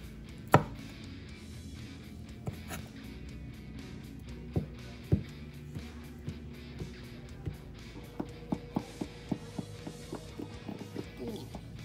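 A stainless steel 8-inch Cuso chef knife slices lemons on a board, making a series of light, regular cutting taps that speed up toward the end, quiet and close in a kitchen.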